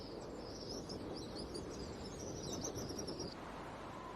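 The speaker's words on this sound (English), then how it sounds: "Red-winged starlings mob her as she starts off." Red-winged starlings give a steady stream of high chirping calls as they mob an eagle in open country, moderately distant over a broad rumbling background, with no talk.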